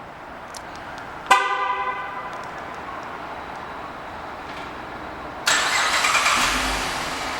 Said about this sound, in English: let's start with a remote start